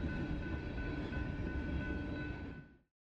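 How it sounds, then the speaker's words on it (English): BNSF SD70ACE diesel locomotive hauling a coal train through Iowa, a steady heavy rumble of engine and rolling cars carrying a faint high whine, held evenly before cutting off abruptly near the end. "SD70ACE are BNSF's preferred motive power of choice for coal trains."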